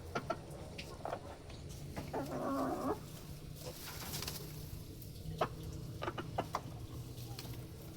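Sasso chickens in a poultry coop cluck and call intermittently at a moderate distance, with a low, steady background hum.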